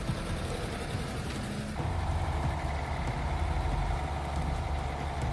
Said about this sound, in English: This homemade transport vehicle uses a single-cylinder diesel engine that constantly shakes under heavy load